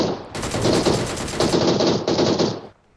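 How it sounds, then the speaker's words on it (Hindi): Rapid automatic gunfire in the mobile battle royale game PUBG New State, loud sustained bursts with a brief break near the middle, stopping just before the end. "यहाँ मैं फायर कर रहा हूँ"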